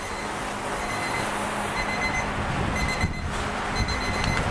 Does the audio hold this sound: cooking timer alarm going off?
yes